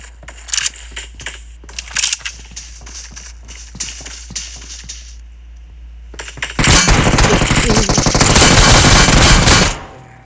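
Gunfire in the PUBG Mobile battle game: scattered sharp shots and impacts ring out first, then a loud, dense automatic burst roars for about three seconds before cutting off.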